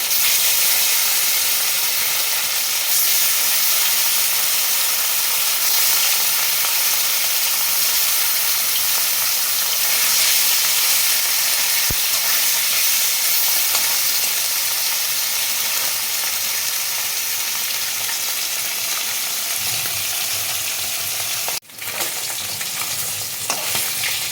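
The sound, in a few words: katla fish pieces frying in oil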